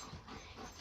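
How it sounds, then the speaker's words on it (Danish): A pet dog close by pants in quick, rhythmic breaths with faint whimpers mixed in, soft and low in level, indoors in a camping caravan. "min hund, Jean"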